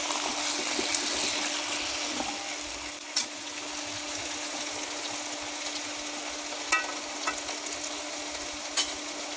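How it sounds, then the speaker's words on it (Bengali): Potatoes and eggplant frying in a pan while being stirred, a continuous close sizzle broken by a few sharp clicks of the utensil against the pan. "এখন আমি ভালো করে নেড়ে দেবো।"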